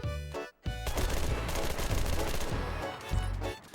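Rapid automatic gunfire from a new weapon in the shooter game Enlisted: a continuous loud, close burst of shots after a brief pause, with no speech.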